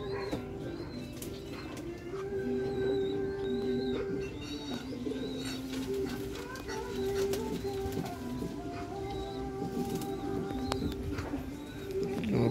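Pigeons out of their cage give soft, repeated cooing calls at close range, with faint chirps and background rustle throughout.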